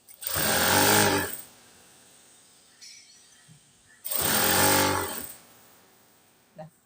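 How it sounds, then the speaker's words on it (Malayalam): Sewing machine stitching palazzo pants in two loud, close bursts of rapid mechanical whirring, each about a second long, separated by quiet pauses with faint clicks and handling noises. "ഇവിടെ നിന്ന് ലോക്ക് ചെയ്തിട്ട് താഴേക്ക് സ്റ്റിച്ച് ചെയ്ത് വരിക"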